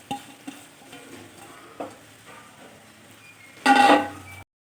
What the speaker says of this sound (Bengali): এখন এখানে আমি দিয়ে দিচ্ছি ভিজিয়ে রাখা সাবু।